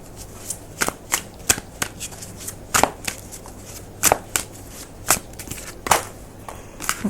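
A deck of tarot cards is shuffled by hand in a quiet room, giving a series of sharp, close riffling bursts, about a dozen spaced irregularly, each a crisp papery flutter.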